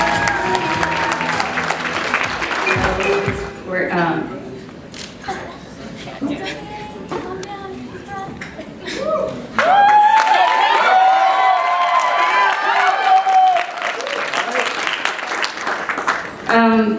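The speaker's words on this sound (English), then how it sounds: "a nice round of applause for Nader and his mother." Wedding reception guests clap and cheer for the groom and his mother, a burst of applause at the start fading under talk, then another swell of crowd noise with voices mixed in.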